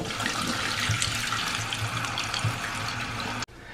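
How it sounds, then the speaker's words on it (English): A toilet tank refilling after the water supply is turned back on: a steady, close rush of running water that continues unbroken, then cuts off abruptly near the end and drops to a quieter trickle. "now we're going to turn the water back on and let it fill up and test everything,"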